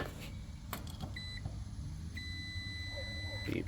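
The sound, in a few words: multimeter continuity test beep on fuses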